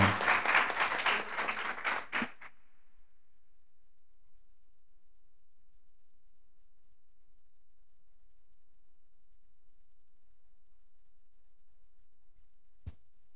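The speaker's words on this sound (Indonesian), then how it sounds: "Tepuk tangan." Audience applause at a university outreach session in Indonesia, a dense burst of clapping for about two seconds at the start, then fading to near silence with one faint click later.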